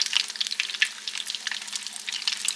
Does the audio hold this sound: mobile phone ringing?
no